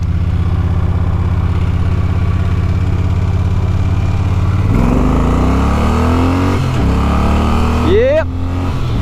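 A Triumph Thunderbird Storm motorcycle idles with a deep steady rumble, then accelerates hard, its engine pitch climbing and dropping through several gear changes, loud and close throughout.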